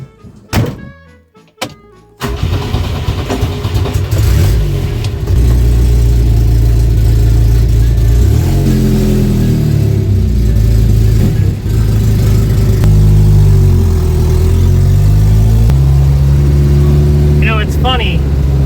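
A 1967 Volvo Amazon 122S, abandoned and being revived, starts with a few thunks and then runs as a loud, steady, close engine rumble with some changes in revs, while people talk over it.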